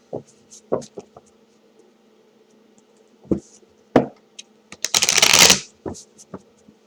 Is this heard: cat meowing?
no